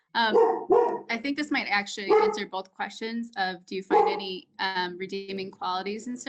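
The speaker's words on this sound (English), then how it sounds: "Oh, sorry, that's my dog." A household dog barks a few times in the background while a person keeps talking steadily over it in a video call, the barks partly buried under the voice.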